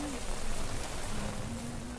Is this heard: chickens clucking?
no